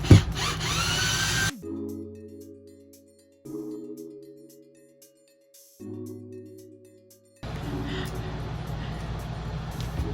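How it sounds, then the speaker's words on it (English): A power drill removing screws in an RV whirs in three short bursts with pauses between, after a loud mechanical clatter at the start and before steady background noise returns. "which I will get to with my drill"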